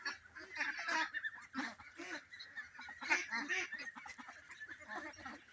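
A flock of ducks on a duck farm, some nearly 2 kg and still growing feathers, quacking and honking continuously in overlapping, close calls. The chorus is dense and steady, with no clear pauses.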